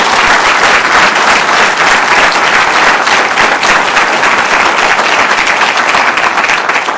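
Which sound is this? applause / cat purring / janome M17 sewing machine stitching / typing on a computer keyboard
applause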